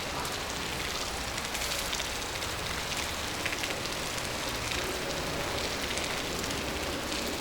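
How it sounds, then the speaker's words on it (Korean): A midsummer rain shower falls over a wetland in mid-July, a dense, even hiss of drops pattering on leaves and ground, steady and close throughout with no voices. "한여름 낮의 반가운 손님, 소나기다."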